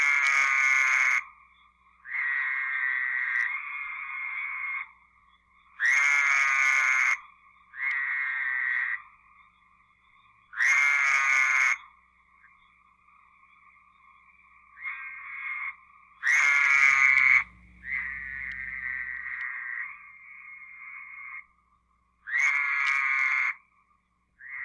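Repeated toad calls, each a single bleating note like a sheep's, sound in separate bursts about every four to five seconds with softer trilling calls between them, fairly close and loud with no voices.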